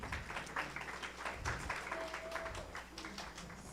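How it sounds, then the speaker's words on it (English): A crowd applauding, a dense wash of many hands clapping at a steady level throughout, sounding somewhat distant. "Again, a round of applause for them."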